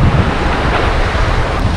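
Strong wind roars across a microphone on a shore while sea waves surge in a steady broadband rush, loud and close with no voices.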